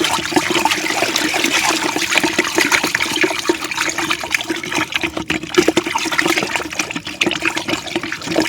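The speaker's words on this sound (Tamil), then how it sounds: "ஏதாவது ஒரு பைப்போ குச்சியோ வச்சு மிக்ஸ் பண்ண போகிறேங்க" Water mixed with pesticide is stirred with a stick, a continuous loud sloshing and churning close by, with no speech.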